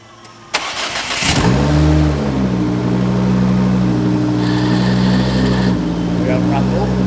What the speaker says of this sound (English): We're going to start it and make sure the clutch works.